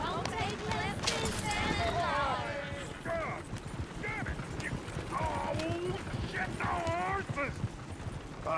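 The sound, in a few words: horse-drawn coach hooves, Red Dead Redemption 2 video game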